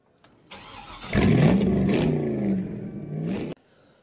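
A car engine cranks and catches, then idles and revs steadily for a few seconds before cutting off abruptly, fairly loud and close with no talking over it.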